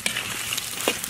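Pork tails stir-fry in hot oil in a wok, a brief close, steady sizzle with a couple of light scraping stirs.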